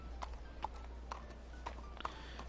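Thoroughbred horse hooves clip-clop steadily in Red Dead Redemption 2, an even walking rhythm of hoof strikes over a constant low background hum.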